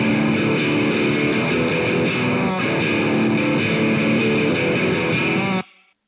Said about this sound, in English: I actually used a DS1 effect on this, and it sounds like this